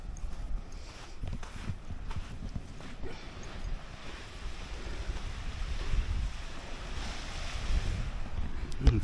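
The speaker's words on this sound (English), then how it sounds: "And very gentle waves." Low, soft wash of sea waves with gentle wind rumble on the microphone, steady throughout and fairly quiet.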